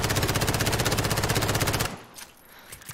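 An MP5 submachine gun fires in Modern Warfare, a rapid, evenly spaced burst of loud shots for about two seconds before cutting off to quiet.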